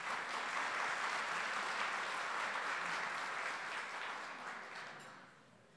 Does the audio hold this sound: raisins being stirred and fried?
no